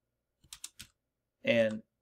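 Three or four quick, close keystrokes of typing Hebrew letters on a computer keyboard, followed by a short burst of a voice.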